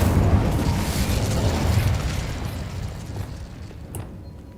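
The Incendio fire spell cast in Hogwarts Legacy gives a loud, roaring burst of flame that fades slowly over a few seconds, with no voices over it.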